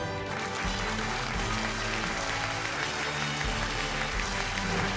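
An audience at a televised classical music competition semifinal applauds a young performer, the clapping blended with sustained orchestral music and a broad crowd wash throughout.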